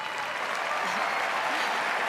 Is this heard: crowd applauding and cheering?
yes